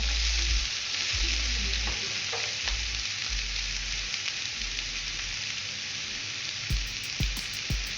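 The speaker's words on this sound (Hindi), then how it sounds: "अब मैं प्याज इसमें डाल दूंगी।" Onions fry in a small amount of oil in a pan on a stove, a constant close sizzle with occasional stirring knocks and scrapes, and no one speaking.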